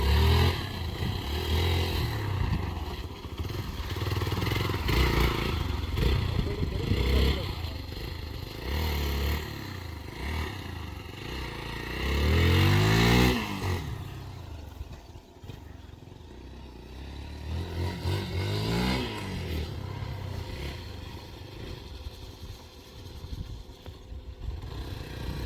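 A Hero Xpulse 200 motorcycle on a rainy monsoon ride, its engine droning and revving with wind and road clatter throughout, easing off and rising again in the later half.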